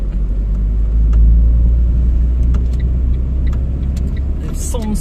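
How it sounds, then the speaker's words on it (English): A tiny electric sans permis car drives along in France, a low steady road rumble and tire noise with faint clicks, heard from inside under occasional talking. "It's one of those tiny little electric cars."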